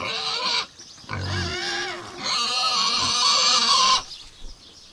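Pigs on a homestead grunt and squeal loudly at close range in several bursts, with chickens clucking alongside in a noisy farmyard.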